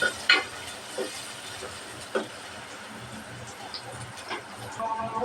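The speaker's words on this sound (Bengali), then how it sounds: "তেল গরম হয়ে গেছে দিয়ে দেব পেঁয়াজ কুচি আর রসুন কুচি পেঁয়াজ রসুন ভালোভাবে ভাইজা নেব" Chopped onion and garlic fry in hot oil for a lentil dish with jute leaves, giving a steady close sizzle broken by a few sharp stirring scrapes.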